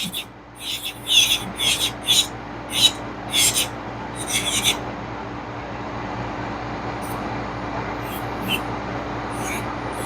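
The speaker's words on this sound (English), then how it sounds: "this drill is amazing for the price" An electric nail drill filing an acrylic nail hums steadily while scratchy filing strokes come in quick repeated bursts, then the grinding settles into a quieter, even buzz.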